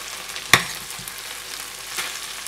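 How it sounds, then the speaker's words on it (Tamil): White rice is stirred into tomato thokku in a hot pan, giving a steady low sizzle with one sharp spoon clack against the pan early on and a softer scrape later, close and without speech. "ஒயிட் ரைஸ் போட்டு நம்ம மிக்ஸ் பண்ண போகிறோம்"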